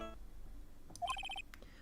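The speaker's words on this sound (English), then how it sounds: "Sorry, that's my phone." A phone ringtone gives a short electronic melody of quick bright repeated tones over low background noise during a Phoenix Wright: Trials and Tribulations game stream.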